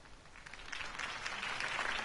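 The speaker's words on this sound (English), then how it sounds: "could have heard that applause" Crowd applause from a video game, following a campaign speech by Harvey Dent; a steady wash of clapping that swells slightly and stays fairly even, heard alone with no talking.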